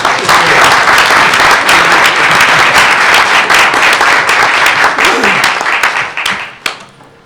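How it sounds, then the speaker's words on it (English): Audience applause at a school board meeting, a loud, sustained wash of many hands clapping that holds steady and then tapers off with a few last claps. "How about another round of applause?"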